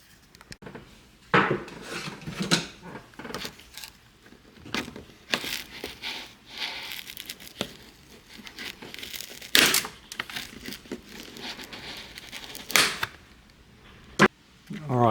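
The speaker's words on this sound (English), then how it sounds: "just unscrew that" Small screws being backed out of the sunroof controller inside a Subaru Sambar, heard as light metallic clicks, scrapes and taps with quiet pauses between them, fairly close and soft.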